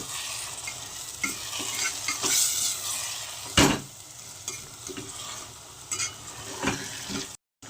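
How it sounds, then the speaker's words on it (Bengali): Chicken and onions sizzle steadily in a pan as they are stirred, with repeated scraping of a spoon and one sharper clatter partway through, all close and continuous. "চিকেনগুলো ঢেলে দিয়েছি, এবার এটার সঙ্গে খুব ভালো করে মিশিয়ে নেব"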